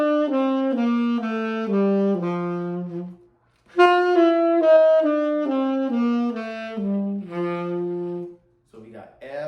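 A descending F bebop scale played one note at a time on a pitched instrument, running down through the added chromatic passing tone in two clear phrases separated by a brief pause, close and moderately loud with no talking.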